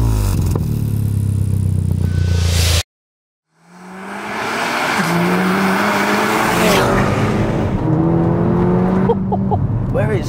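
A fully built Skoda Superb with over 600 bhp idles with a deep rumble, cuts out briefly, then pulls away hard, its engine rising through several gears in a loud, smooth surge with turbo whoosh, heard from inside the car.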